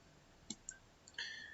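Computer mouse clicks while navigating configuration menus on a JBoss WildFly application server, a few sharp quiet clicks in an otherwise silent room.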